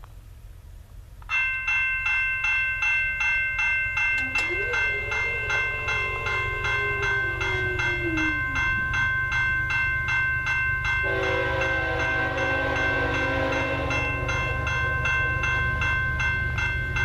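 A CN freight train rumbles steadily past near Ladysmith with a low continuous roar, its horn sounding long harmonic blasts at a road crossing, first one extended call, then another loud blast later.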